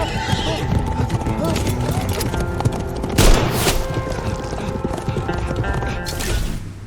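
Clip-clop of horse hooves and a neigh in an AI-generated animated film scene, with a sharp gunshot boom midway, mixed under a voice speaking throughout.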